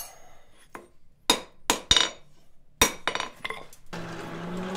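Hammer strikes on a hot metal boot scraper blade being spread and tapered at the forge, a few sharp ringing blows at irregular intervals with clinks between, then a steady hiss or roar of the forge at the end.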